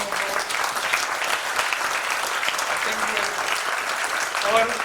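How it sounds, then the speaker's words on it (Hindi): A seated audience at a tech day event in a Mumbai hotel gives the whole team a round of applause, dense continuous clapping with faint voices underneath. "तो एक ताली बजा सकते हैं फॉर द होल टीम।"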